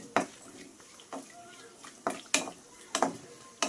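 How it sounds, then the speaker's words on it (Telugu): Raisins frying in ghee in a pan for mango rava laddu, heard as a soft sizzle under irregular sharp scrapes and clinks of a spoon stirring against the metal pan. "ద్రాక్ష కూడా వేసేసుకునేసి వేపేసుకుందామండి"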